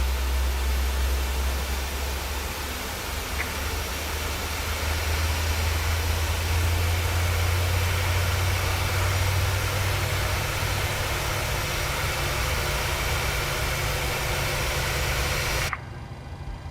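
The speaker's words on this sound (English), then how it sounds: "Okay, that's engine number 2." Engine number 2 of a PMDG 737-600 running up at Warsaw Airport in Microsoft Flight Simulator, a steady, loud jet roar with a deep low rumble that holds for many seconds before dropping off abruptly near the end.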